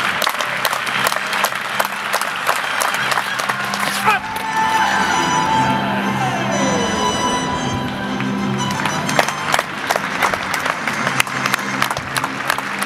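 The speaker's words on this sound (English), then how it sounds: "Big applause for all athletes." Stadium crowd applauding athletes at a javelin throwing competition, broad sustained clapping with scattered sharp claps and some cheering, a tonal whistle-like sweep mid-clip, loud and continuous throughout.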